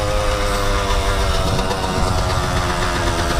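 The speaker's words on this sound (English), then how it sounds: "Let's do a seat wheelie, a knee wheelie or whatever, seat stand wheelie" A dirt bike engine revs loud and close in a steady, rough drone with no talk, while the rider readies a seat-stand wheelie.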